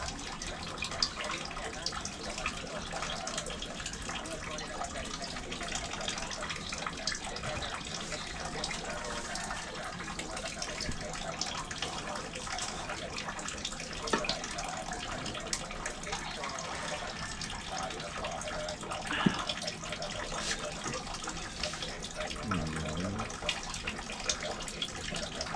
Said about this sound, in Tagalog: Sarap, atik-atik ang ulan